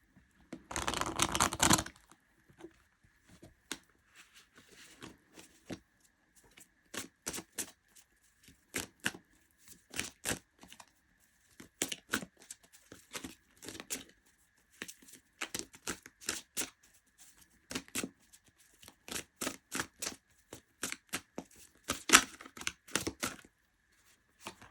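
Oracle cards are shuffled by hand in repeated short bursts of riffling and slapping, close and crisp with pauses between, starting with one louder rustle.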